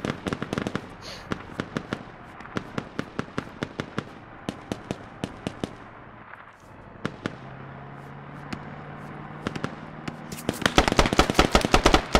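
Rapid gunfire in the PC military shooter Squad: dense bursts of sharp, loud cracks with scattered single shots, growing heavier and more continuous toward the end, over a low rumbling background.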